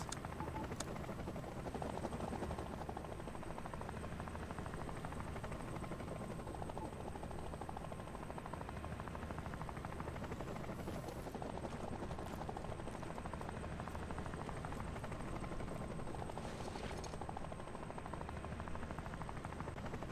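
A helicopter in the video game Door Kickers 2 drones steadily throughout, its rotor thrum constant and fairly loud, with no voices.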